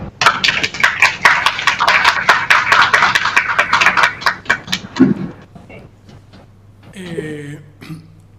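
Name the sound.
audience applause for speaker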